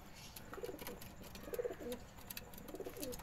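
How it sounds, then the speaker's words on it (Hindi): Soft teddy pigeon coos repeat in a low, rolling rhythm, faint and somewhat distant, over a background of light rustling. "ये कबूतर है, ये देखिए"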